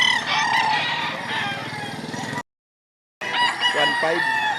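A rooster at a chicken market in Lipa, Batangas crows loudly and close, breaks off into a moment of silence, then crows and clucks again.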